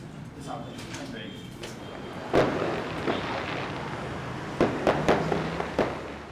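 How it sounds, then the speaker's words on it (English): Fireworks set off by an election contestant at a polling and vote-counting center during Egyptian parliamentary elections, heard as several sharp pops and bangs, one early and a cluster later, over a steady murmur of crowd talk. "an election contestant started fireworks with expectations of winning"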